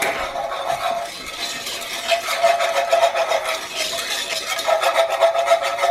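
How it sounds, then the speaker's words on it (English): A metal whisk stirs flour into oil in a pot for a Louisiana gumbo roux, giving steady scraping and clinking against the pan that pulses on continuously at close range. "we're going to add just basic flour, and we're going to whisk it in"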